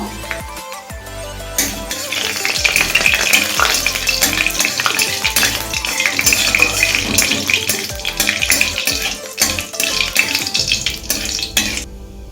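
Two dried red chillies, one whole and one split, and nigella seeds crackle in hot oil in a pan, a loud close sizzle with sharp popping and stirring scrapes running nearly the whole way through.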